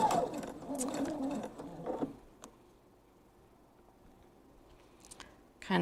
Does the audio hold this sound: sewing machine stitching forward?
yes